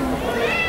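Short-haired kitten at a cat show giving a brief, close meow, with a judge's voice talking alongside it.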